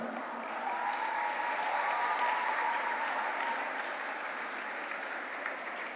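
Audience at an award ceremony applauds a winning lead singer, a dense, steady clapping that rises quickly, holds, then eases slightly over six seconds.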